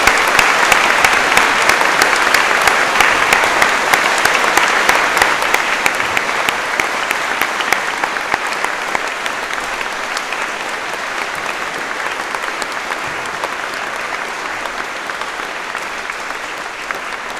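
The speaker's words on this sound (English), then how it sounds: "join me in giving all of the prep school staff a huge round of applause" A long, loud round of applause for prep school staff at a school speech day, a large audience clapping steadily and continuously, easing slightly in volume over time.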